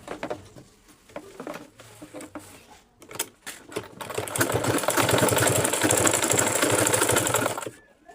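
A sewing machine stitches a V-shaped seam in fabric, first in short stop-start bursts, then a steady loud continuous run of rapid needle clatter for several seconds before stopping.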